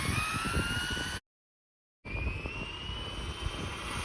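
An RC car's electric motor at full throttle on a 3S 2200mAh LiPo, a loud high-pitched rising whine that cuts out completely for about a second, then returns as strong as before.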